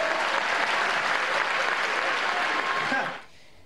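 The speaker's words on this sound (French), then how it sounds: "vous pouvez vous applaudir s'il vous plaît" A festival audience claps loudly in a dense, sustained burst of applause for about three seconds, then cuts off abruptly into quiet.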